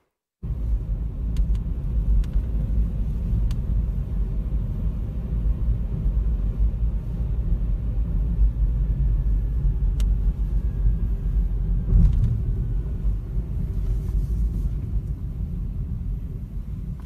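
A car drives along a road in the city of Srinagar, heard from inside the vehicle as a loud, steady low road rumble that lasts the whole time with no voices.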